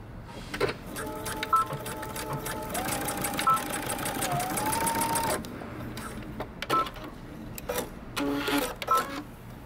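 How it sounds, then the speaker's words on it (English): A sewing machine top stitching a coat, a steady mechanical whirr for several seconds that stops, then gives a few short bursts of stitching. "I'm gonna turn my loop over and top stitch."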